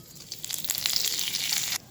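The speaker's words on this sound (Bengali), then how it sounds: "ফোড়নই দিয়ে দিচ্ছি গোটা জিরে একটি তেজপাতা আর কিছু গোটা গরম মশলা" Whole cumin, a bay leaf and whole garam masala crackle and sizzle in hot mustard oil for a couple of seconds before the sound cuts off abruptly.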